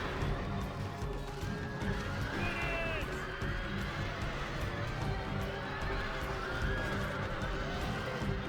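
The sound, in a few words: horses neighing and galloping in Rome: Total War video game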